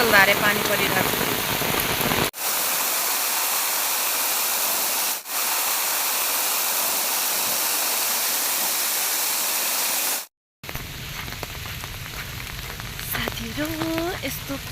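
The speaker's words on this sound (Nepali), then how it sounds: "मुसलधारे पानी परिरहेको छ।" Heavy monsoon-style downpour pouring down in a loud, unbroken hiss. A short gap of silence follows, then lighter rainfall with scattered sounds in the background.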